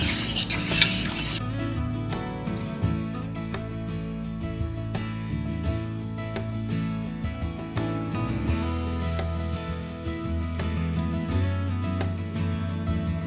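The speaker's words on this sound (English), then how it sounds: "I've got my pan off the stove now, and I'll just stir in this last bit." Chocolate sheet cake frosting is stirred in a pan just off the stove, a spoon scraping and clinking against the metal in a steady, close rhythm over faint background tones.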